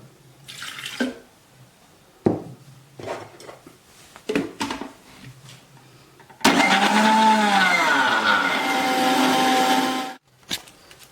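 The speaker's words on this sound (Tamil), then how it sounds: "இப்போ நான் மிக்சியில் போட்டு மிக்ஸி ஜாரில் போட்டு அடிக்க போகிறேன்" A few scattered clatters and taps, then a mixer grinder blending coconut roars loudly for about four seconds with a whining, shifting pitch before cutting off abruptly.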